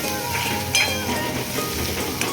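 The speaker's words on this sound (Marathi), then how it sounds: "चला आता मिरची आपली परतलेली आहे" Green chillies sizzle steadily in a hot pan as they are sautéed for a village-style vegetable dish, a close, continuous frying hiss with faint stirring scrapes.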